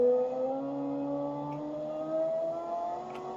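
A 1972 muscle car engine revs high, a smooth rising whine with clear engine tones climbing steadily in pitch, moderately loud and heard alone.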